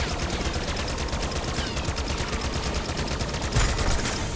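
Rapid automatic gunfire from shooting enemies in a video game, a continuous loud rattling stream of shots with a heavier burst near the end.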